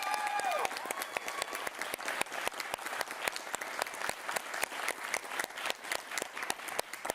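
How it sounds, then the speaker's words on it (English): Applause from an audience at a youth media celebration, steady clapping with sharp individual claps standing out and a brief tonal tail at the start, sustained for several seconds. "one more round of applause for our guests."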